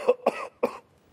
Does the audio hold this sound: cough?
yes